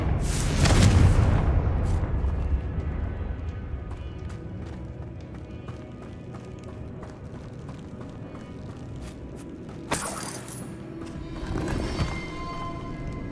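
Fiery Confringo spell blasts in Hogwarts Legacy: a loud booming burst opens, a busy rumbling game-action bed follows, and a second sharp crackling blast hits near the end.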